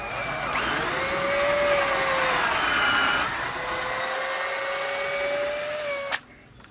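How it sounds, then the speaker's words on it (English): A power drill pre-drills wood for large screws, a steady high whine that holds for about six seconds, dips slightly midway, then stops abruptly. "So what I'm doing is I'm pre-drilling."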